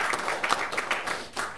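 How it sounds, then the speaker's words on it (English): Brief applause at a city council meeting: a scattered group of people clapping in an indoor chamber, moderately close and fading near the end. "So how about a round of applause?"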